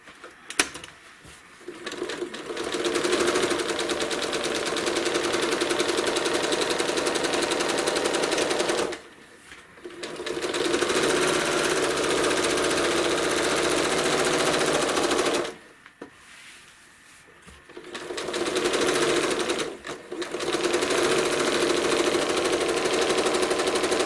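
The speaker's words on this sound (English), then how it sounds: "And stitch right off the end of the quilt again" A sewing machine stitches an American flag quilt panel in long runs of fast, steady mechanical rattling, stopping briefly twice and then starting up again.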